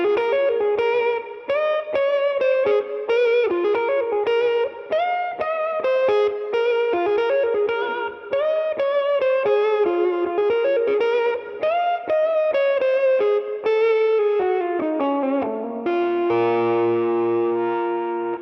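An Epiphone Jared James Nichols signature electric guitar at full volume with tone at zero plays a melodic line of sustained, slightly distorted notes with a smooth, darkened tone, ending on a ringing chord.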